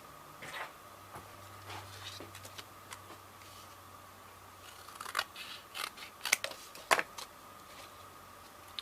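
Scissors trim paper for a boho pen holder craft, making faint, sparse snips in a quiet room that come more quickly and sharply toward the end.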